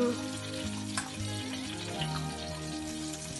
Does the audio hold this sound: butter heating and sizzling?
yes